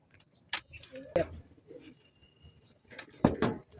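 Racing pigeons coo and chirp after a morning release in San Simon, Pampanga, heard close in a few short bursts against a quiet outdoor background, with occasional wing sounds.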